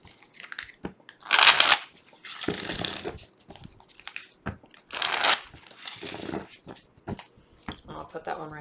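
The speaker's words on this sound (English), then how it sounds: "So I'm just going to shuffle each deck 3 times." Tarot card decks being shuffled by hand, bursts of crisp riffling and sliding card noise in several separate rounds with quiet gaps between them, close up.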